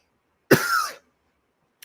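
A single harsh cough from someone recovering from a cough, close and loud, followed by silence and a tiny click at the end.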